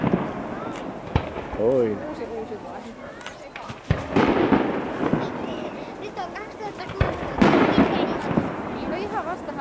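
An outdoor fireworks show sends off sharp bangs and crackling bursts at irregular intervals, some with rising whistles. Voices can be heard between the explosions.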